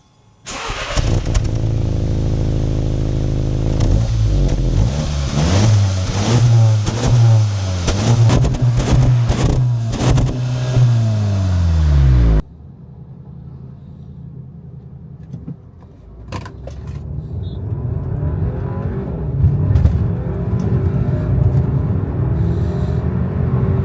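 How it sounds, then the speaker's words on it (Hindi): Stock engine of a car being built into a drag project car, accelerating hard on a highway: a loud rising roar climbs through the gears with repeated upshifts, then cuts to steadier, quieter road and engine noise. "let's go on the highway and सी कि इसका जो स्टॉक इंजन है वो कैसा परफॉर्म करता है"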